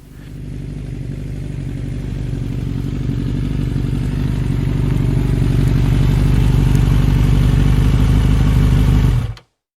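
A motorcycle rides along Vermont Route 5A between West Burke and Derby Center, its engine droning steadily and loud up close, building slightly before cutting off abruptly at the end; no talk.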